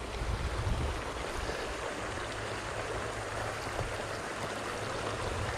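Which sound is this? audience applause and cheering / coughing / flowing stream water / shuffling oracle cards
flowing stream water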